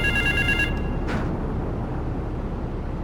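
A payphone rings in GTA 3, a bright electronic bell trilling loudly for under a second, followed by a brief burst of noise and then a low game rumble.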